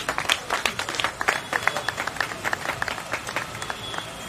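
A crowd at a Congolese gathering claps and applauds steadily for several seconds, a moderately distant patter of many hands with brief voices mixed in.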